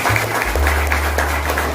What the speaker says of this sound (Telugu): మరి ఆయనకి మనం ఒక గ్రాండ్ క్లాప్స్ ఇవ్వాలండి